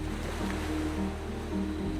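Soft, continuous wash of ocean waves on a sandy beach, an even hiss with no distinct breaks. Gentle sustained tones hum underneath.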